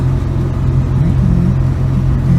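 Engine of a 1967 Volvo 122S Amazon wagon with carburetors, heard from inside while driving: a steady, loud low rumble with slight revving swells, continuous throughout and without speech.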